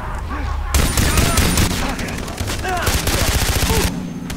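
Gunfire in the video game Far Cry 3 crackles in rapid bursts, dense automatic shots after a quieter start, with someone talking over the fighting.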